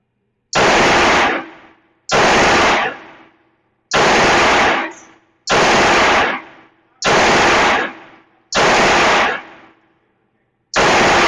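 A Glock 19X pistol fires seven loud, evenly spaced shots at a range, each a harsh close blast with a long decaying echo.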